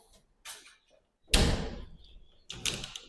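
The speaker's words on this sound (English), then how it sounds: "And now I'm going to close the arena door." A robot combat arena door is handled and shut: a short scrape, then a loud banging slam with a rattling tail, followed by another sharp clatter, all nearby with no talking.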